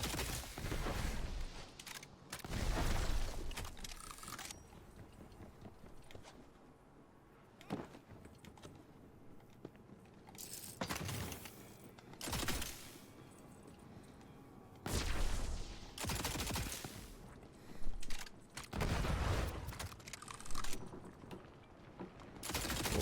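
Gunfire in a video game, repeated loud bursts of shots scattered irregularly across the stretch, some short and some sustained, with quieter gaps of background game sound between them.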